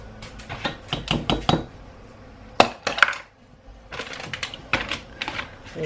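A whisk clatters briskly against a bowl while beating egg with mozzarella cheese for chaffle batter, a rapid run of close, sharp clicking strokes that pauses briefly, then resumes in bursts.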